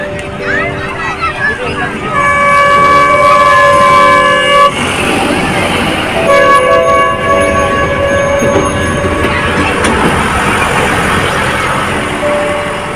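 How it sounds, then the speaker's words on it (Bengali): A toy train moving through a crowded park beside a lake on a busy Sunday sounds repeated loud horn toots over steady rumbling, with dense crowd chatter and nearby voices throughout. "যে একটা টয় ট্রেন আসছে।"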